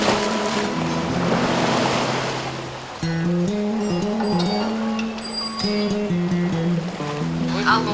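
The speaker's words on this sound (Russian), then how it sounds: "Что там у тебя плещется? Это океан?" Ocean waves splash and wash in a steady loud wash near a phone, with someone talking over them throughout.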